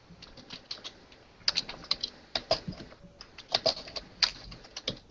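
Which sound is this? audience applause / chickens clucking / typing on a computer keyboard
typing on a computer keyboard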